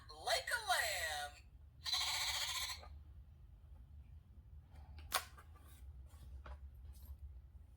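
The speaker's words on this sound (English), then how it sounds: "Baa, baa. Baa like a lamb." A lamb bleats baa twice in quick succession, close and clear, followed by quiet stretches with faint clicks and one sharp tap.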